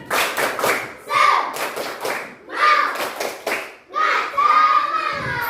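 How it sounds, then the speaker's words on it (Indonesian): A class of children performs a rhythmic spirit clap, quick patterned bursts of hand claps in repeated groups, close and lively, with young voices chanting along between the claps. "coba tepuk semangat"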